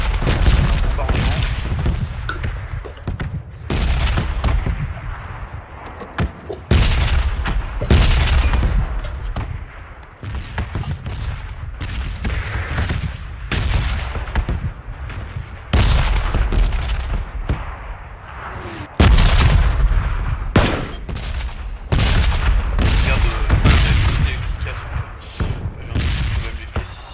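Repeated heavy booms of a bombardment and bursts of gunfire in PlayerUnknown's Battlegrounds roll through continuously, loud and dense, with a voice speaking at times.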